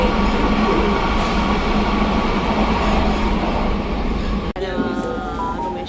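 A Rome metro train runs steadily, its loud continuous rumble and rattle filling the whole stretch with a brief dip near the end before the carriage noise carries on.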